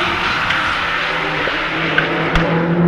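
Race cars, including a Porsche 911, roar around the Magny-Cours circuit in a sustained, loud engine drone with faint tire noise, steady and close throughout.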